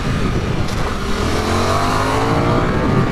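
Loud, close engine roar of a 2024 Suzuki GSX-8R motorcycle ridden hard on a race track, steady throttle with rising pitch sweeps as it accelerates through the gears, alone without talk.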